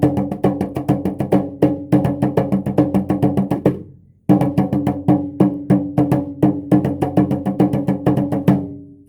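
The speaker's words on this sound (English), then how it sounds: "So that's a little bit of what the djembe sounds like" A djembe struck in a fast, steady rhythm of sharp slaps and deep tones. It pauses briefly partway through, then resumes and stops abruptly.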